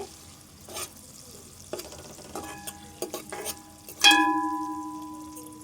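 While a Telangana fish curry is being cooked, a pan of frying food gives a soft sizzle, with scattered stirring scrapes and clinks. It ends in a sharper metallic ring of a utensil against the pan. There is no talking.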